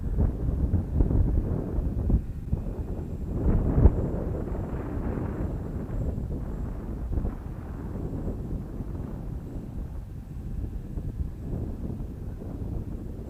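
Wind gusting across an RC plane flying field and buffeting the microphone, a steady low rumble with louder gusts, fairly loud and close, with no voices.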